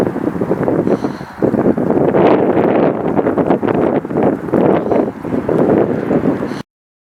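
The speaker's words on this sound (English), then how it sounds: "It's just got a huge strong gust of wind, and the flames are now twice as big as they were." Strong wind gusts roar and buffet the microphone near a raging wildfire in Boulder County, Colorado, a loud continuous rush of rumbling noise that swells and dips with each gust.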